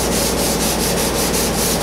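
Hand sanding of Bondo body filler with a sanding block: fast, even back-and-forth scraping strokes, close and loud, repeating in a steady rhythm with no voices.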